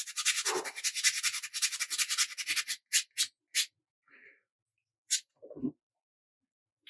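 Bondo filler being scraped off a sculpt, heard as a dense run of close, rasping scrapes followed by a few separate short strokes and brief soft rubs, with no talking.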